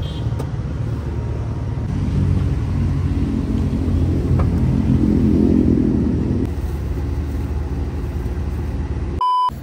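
A modified Honda Civic passes by, its engine rumble and road noise rising to a loud swell before fading, with a brief beep near the end.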